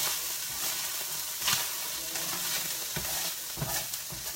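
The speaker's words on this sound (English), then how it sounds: "I'm just going to give the meat a stir." Meat for pad thai sizzles in a pan while being stirred, a continuous close frying hiss broken by a few soft scraping stir strokes.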